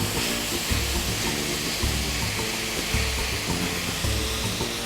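Pork ribs browning in a hot pan, a steady loud sizzle and crackle of frying meat with faint stirring knocks, close up and without talk.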